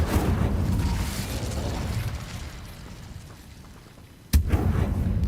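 An Incendio fire spell cast in the Hogwarts Legacy video game gives a rumbling, crackling burst that fades, followed by a sudden sharp impact near the end and a renewed roar.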